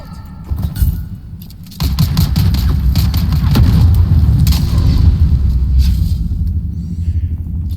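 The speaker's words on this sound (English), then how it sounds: "Grenade out!" A grenade explosion in the video game Dune Awakening, a sudden loud boom that settles into a long, heavy rumble lasting several seconds, preceded by a faint metallic jingle.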